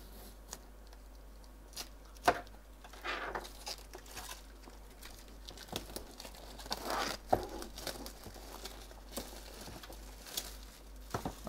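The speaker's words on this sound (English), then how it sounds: "Now I'm gonna cut this box and open the router for showing you." A very sharp knife slices through a cardboard router box, making faint, uneven scratching and tearing sounds with small crinkles. It is close by and quiet, with no talk.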